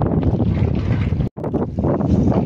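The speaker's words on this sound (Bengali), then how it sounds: "কত বাতাস দেখছো তো।" Strong, gusting wind roars across an open microphone outdoors on a river in the Sundarbans, a steady broadband rush with a brief cut-out midway, no voices.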